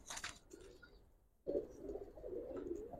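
Old-breed Giribaj pigeons from Old Dhaka, soft close cooing with faint wing or foot patter, then a low throaty coo swelling after a short pause.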